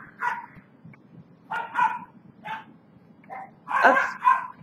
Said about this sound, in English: I think those dogs are having a fight.